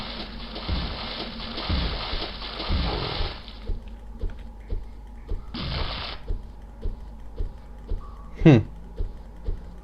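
Heavy splashing water in two bursts, a long churning one then a shorter one, followed by quieter sounds and a sharp knock.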